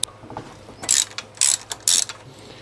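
A 13 mm socket ratchet loosens a bolt on a Volvo 164e, giving three short bright bursts of clicking with brief pauses between, close and fairly loud in a quiet garage.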